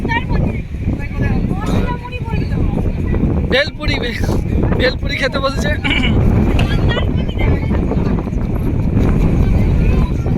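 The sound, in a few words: strong wind blowing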